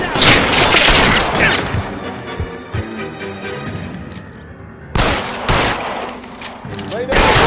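Heavy gunfire in the video game L.A. Noire, loud bursts of shots at the start and again near the end, with a quieter stretch between them and a voice partly under the noise.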